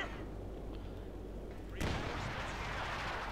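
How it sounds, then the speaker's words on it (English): One booming shot from a US pack howitzer in the Company of Heroes 2 strategy game, a sudden blast with a rumbling tail over a quiet, constant battlefield ambience. "There you go, we got the pack howitzer firing."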